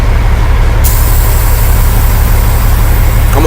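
Idling truck engine with a low steady rumble, followed by a sharp loud hiss of air released from the air brake system near the start, then the engine's continued running.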